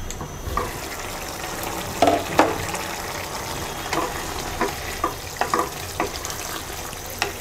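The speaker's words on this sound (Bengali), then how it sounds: "এবার কপি সিদ্ধ হওয়া পর্যন্ত রান্না করব।" Cauliflower with sliced green chillies, for an egg and cauliflower dish, sizzles steadily in a pan, with scattered scraping and clacking stirs rising briefly above the low, even frying hiss.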